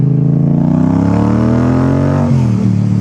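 A rebuilt dirt bike engine revving hard while being ridden, a loud close buzzing whine that climbs steadily in pitch, then briefly dips as the throttle shifts near the end.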